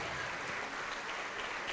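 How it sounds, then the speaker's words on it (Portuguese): A church congregation applauds at the front of a worship service, a faint, dense and steady patter of clapping with no clear voices above it. "vamos aplaudir ao Senhor Jesus."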